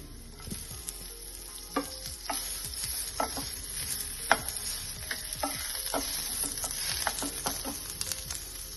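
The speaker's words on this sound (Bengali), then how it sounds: "হালকা একটু নাড়িয়ে নেব। তারপরে দিয়ে দেব লঙ্কা কুচি" Chopped green chilli and garlic stirred and fried in a pan for a homemade sandwich filling: steady close sizzle with scattered clicks and scrapes of a spatula, no voices.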